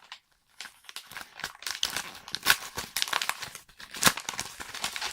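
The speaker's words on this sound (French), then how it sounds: "Je suis très content d'ouvrir mes colis avec vous." Cardboard and plastic packaging from a FNAC parcel of Blu-ray and DVD discs crinkles and tears as it is opened, with a steady run of crumpling and ripping noises close by and no talking.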